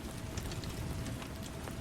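Gentle rain falls steadily in a dense, even hiss of tiny drops that continues unbroken throughout, with no voices heard.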